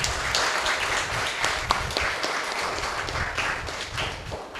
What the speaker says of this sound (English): Mr. Ronald Victoria, let's welcome them with a big round of applause